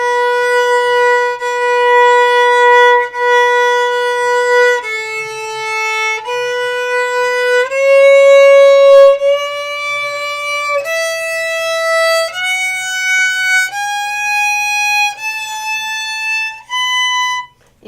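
A violin played by a beginner, bowing a string of sustained, clear notes that step mostly upward like a slow scale, each held a second or two, loud and close with no talk.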